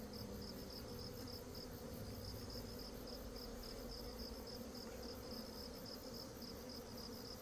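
Honeybees hum in a steady, dense drone throughout an autumn hive inspection, a continuous close buzzing with no talk.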